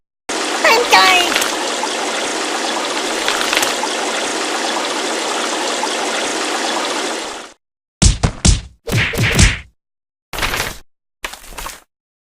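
Water splashes and gushes continuously from a washing machine in the Kick the Buddy video game, then breaks into several short bursts of splatter separated by silence.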